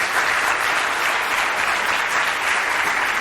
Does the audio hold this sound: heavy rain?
no